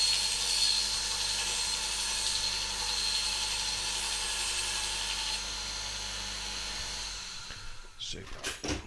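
A bench grinder sharpens a woodturning gouge, taking the heel off with a steady high whine and grinding hiss held close, ending with a few louder scraping contacts.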